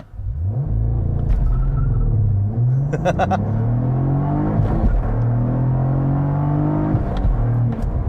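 A 2022 Cadillac CT4-V Blackwing four-door sports sedan launching hard from a stop with launch control, engine roaring and rising through several gear changes, loud and close from inside the car.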